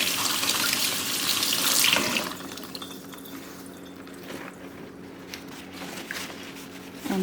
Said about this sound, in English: rinse in the cold water.